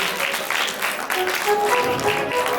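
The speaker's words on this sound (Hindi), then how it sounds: "एक बार बच्चे जोरदार ताली ला दो जी।" Applause from children at a village inauguration ceremony for a free tuition centre, a dense patter of clapping throughout with voices and faint music tones mixed in.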